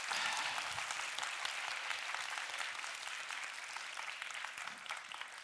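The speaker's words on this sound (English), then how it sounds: "Another round of applause." An audience at the Minds of the Future 2024 event gives a steady round of applause. The clapping is dense and continuous, and fades slightly toward the end.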